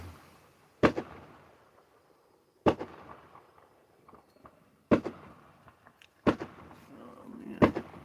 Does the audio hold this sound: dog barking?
no